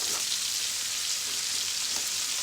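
Onions browning in a pan beside cooking vegetables, a steady, even sizzle and crackle of frying, close and alone.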